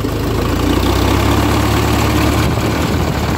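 A tractor's diesel engine runs steadily, with a loud, close, low throbbing idle and even mechanical knocking throughout.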